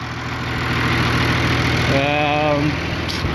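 A John Deere 2955 tractor with the non-turbo 359 engine, four-wheel drive and cab, idles steadily with a low, even rumble nearby and a brief rising tone partway through.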